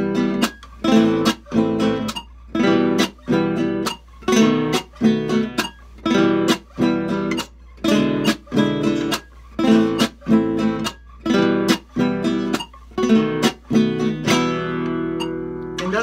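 Acoustic guitar strummed in a steady, lively huapango rhythmic pattern with sharp percussive strokes and brief muted gaps, played alone at a moderate pace, ending on a ringing chord.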